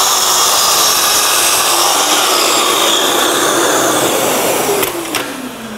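Festool Kapex KS 60 sliding compound mitre saw with its extraction unit running, a loud steady whine and roar that continues throughout, then winds down toward the end.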